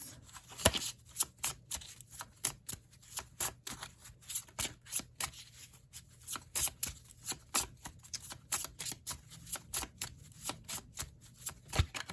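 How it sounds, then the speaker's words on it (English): Tarot cards being shuffled, a long steady run of crisp riffling flicks and soft slaps in quick irregular rhythm, close by, with no voices. "I'll get one more card here, guys."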